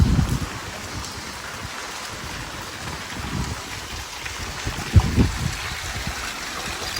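Heavy rain pours in a steady hiss while strong wind gusts rumble in uneven bursts, loud and close, with no voices.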